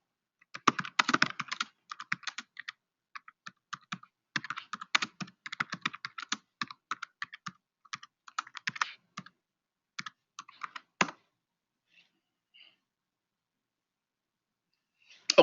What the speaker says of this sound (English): I just typed in what are the critical issues facing Cigna, right?